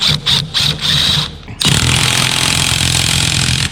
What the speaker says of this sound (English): Last bolt, brackets made. Gotta get it all nice and tight.